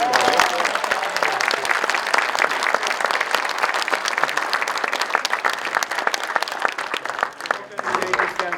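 A hall audience at a community meeting about saving a cinema bursts into applause, loud, dense clapping with distinct sharp hand strikes, sustained for several seconds alongside some voices.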